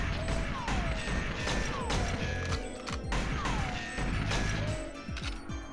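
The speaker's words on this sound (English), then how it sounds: "I'm just gonna blow up every single console" Explosions and smashing from consoles being blown up in GoldenEye 007 on a custom snowy mountain level, dense repeated crashes and mechanical clatter layered over continuous game music, loud throughout with no pauses.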